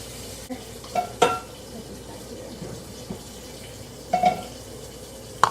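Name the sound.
fish sizzling while frying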